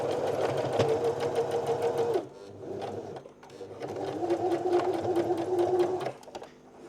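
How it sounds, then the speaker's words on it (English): A sewing machine stitches a one-piece camper cushion cover in two steady close bursts separated by a brief pause, its fast even needle rhythm clear and alone. "when you're sewing, it is good habit to make sure that you do a back stitch at the start and end of each sew"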